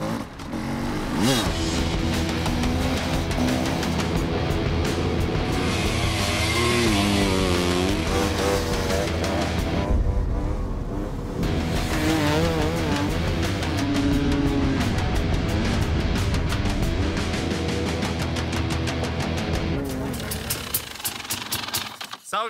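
Dirt bike engines at the Erzbergrodeo hard enduro race, loud buzzing and revving that rises and falls constantly with rough mechanical clatter, continuing with brief lulls across the whole stretch.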